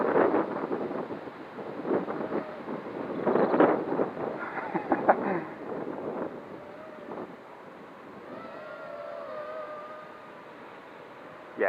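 Strong gusty wind buffets the microphone outdoors where a small Ideafly Grasshopper F210 FPV quadcopter is flown, a rough low roar that surges and eases, with a faint thin whine in the later seconds.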